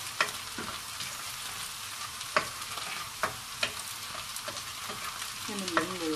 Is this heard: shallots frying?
yes